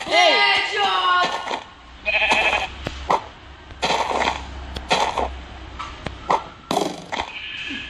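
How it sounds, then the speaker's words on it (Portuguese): Video game sheep bleat in a Minecraft-style spleef minigame, a wavering bleat up front followed by game pings and effects, while players talk excitedly over the top. "Acertei a ovelha que tá na tua frente."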